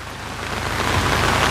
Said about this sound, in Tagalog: Sunod na lang kasi umuulan.